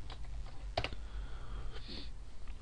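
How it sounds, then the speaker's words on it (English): A few scattered keystrokes on a computer keyboard, soft clicks at an irregular pace over a low background hum. "Try typing it correctly."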